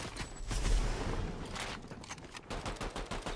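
Gunfire in an esports match of a shooter video game, with a sniper rifle in play: fast overlapping shots and a rattling fusillade, fairly faint, with bursts continuing throughout.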